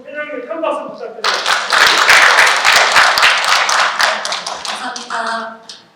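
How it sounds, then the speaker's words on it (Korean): At a university student council inauguration ceremony, an announcer speaks, then the hall breaks into warm, sustained applause for about three seconds before the clapping tapers off under resumed speech. "큰 박수 부탁드립니다"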